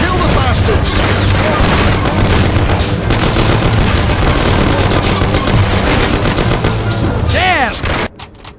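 A Mafia video game shootout in a parking lot produces dense, loud bursts of rapid gunfire and booming shots that overlap continuously before cutting off abruptly, with a shouted voice mixed into the chaos.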